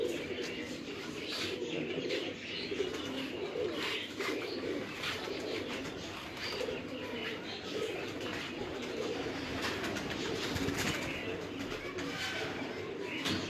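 Pigeons cooing continuously on a rooftop loft, a dense layered murmur of many birds alongside steady background noise and occasional faint voices.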